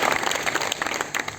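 A roomful of people at an organization's gathering gives a short burst of brisk, close applause, steady clapping throughout.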